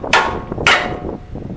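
A hammer taps twice on a suspension part of a 1996 third-generation Toyota 4Runner during a lift install, two sharp metallic knocks about half a second apart, close and with no talk.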